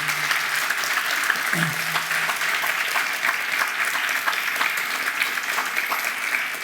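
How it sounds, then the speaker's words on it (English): Steady, dense applause from a crowd, continuous clapping throughout with no pauses. "Could you please give a round of applause to our students and staff who presented tonight?"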